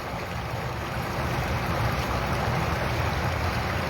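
Water swishing and sloshing steadily in a hot tub as hands and a head dip under the surface, a close, continuous broadband wash with no voices.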